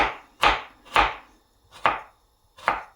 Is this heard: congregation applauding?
no